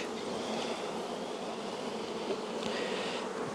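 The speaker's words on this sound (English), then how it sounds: "Too many bees all over the place." Dense, steady buzzing of many honey bees swarming around an opened hive during a beekeeper's inspection, a continuous close drone with no talk.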